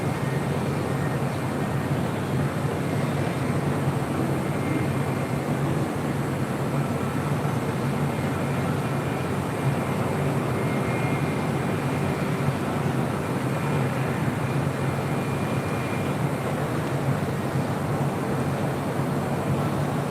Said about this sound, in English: See JetBlue A321 in the first mint livery. Heading on down for a Southside departure.